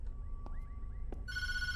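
An in-game telephone in the horror game Tattletale rings faintly: a few soft trilling chirps, then a bright sustained ring tone starts near the end over a low rumbling background.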